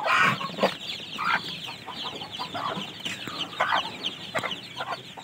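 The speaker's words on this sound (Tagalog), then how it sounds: "Ito yung ating nabili na sisiw." Darag native chicken chicks cluck and peep in a busy backyard, with a steady run of close, overlapping calls and a few louder chirps standing out.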